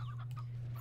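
Chickens cluck in the video game Slime Rancher, a short run of soft, close clucks over a steady low hum, with no talking.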